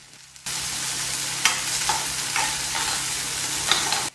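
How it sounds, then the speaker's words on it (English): Crushed garlic cloves hit hot oil for a mixed vegetable curry and break into a steady, close sizzle, with a few sharp clinks from a stirring utensil against the pan. "I add in 4 crushed garlic cloves"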